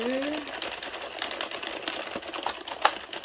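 Addi Express knitting machine cranked by hand to knit a beanie: steady rapid clicking and rattling of the needles in a continuous run, with a voice speaking over it.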